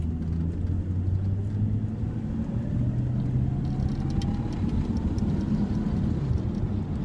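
A truck engine idles with its exhaust running, a steady low rumble and drone holding at even loudness throughout, with faint clicks above it.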